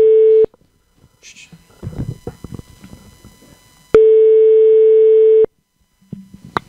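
Outgoing telephone call with long steady ringback tones separated by a pause, loud and clear, with faint rustling and brief whispering between the rings.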